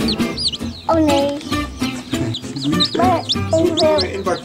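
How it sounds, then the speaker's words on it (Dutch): Many small chicks cheeping in high, rapid, overlapping peeps close by, with clucking from hens and some voices underneath. "Allemaal kuikens. Allemaal baby's."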